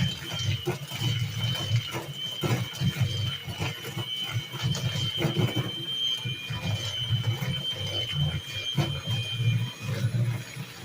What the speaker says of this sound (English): I'm going to go in with my mixer and just mix all of this in.